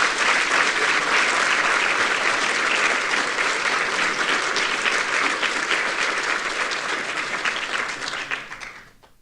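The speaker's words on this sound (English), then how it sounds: "Have another round of applause just for all of our presenters today." A large conference audience gives sustained applause for the day's presenters, dense steady clapping that holds for most of the stretch before tapering off and fading out at the end.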